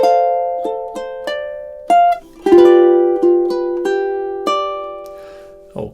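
Plucked ukulele chords ring out in a gentle picking pattern, a dozen or so clear notes and strums in steady rhythm, close and alone without voices.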